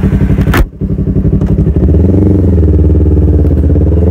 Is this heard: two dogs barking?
no